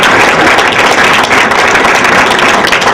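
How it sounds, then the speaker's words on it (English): Audience applause at a Passaic County Commissioner meeting, a steady, loud wash of clapping hands that holds evenly from start to finish with no voices over it. "We can clap for all of them"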